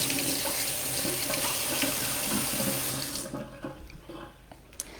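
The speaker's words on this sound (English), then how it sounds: "I'm going to rinse off my cloth right here at the kitchen sink." A kitchen sink faucet runs steadily as a cloth used for milk paint stenciling on wood tags is rinsed beneath it, a close rushing splash that cuts off after about three seconds, leaving faint handling noises.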